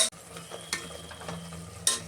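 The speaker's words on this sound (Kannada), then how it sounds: "ಈಗ ಎಲ್ಲ ಚೆನ್ನಾಗಿ ಇದನ್ನು ಫ್ರೈ ಮಾಡ್ತಾ ಇದ್ದೀನಿ" Rice bath masala with salt and turmeric fries quietly in a pan, a soft low sizzle broken by a few sharp spoon scrapes and clicks of stirring.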